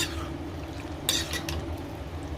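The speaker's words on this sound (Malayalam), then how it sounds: "നമുക്കിത് ഒന്ന് ഇളക്കി കൊടുക്കാം." A spoon briefly and quietly stirs a wet chickpea and spinach curry in a pan, giving soft scraping and sloshing with a couple of light clinks.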